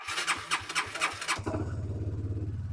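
A used CBR 150 motorcycle cranks with several rhythmic starter pulses, then catches and settles into a steady, even idle, heard up close with no talk.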